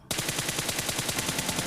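Rapid automatic gunfire from the mobile game PUBG Mobile, a sharp onset followed by a fast, even burst of about a dozen shots, loud and alone.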